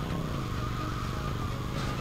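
Motorcycle engine in GTA Vice City, a steady buzzing drone that holds evenly throughout at moderate level, without talk.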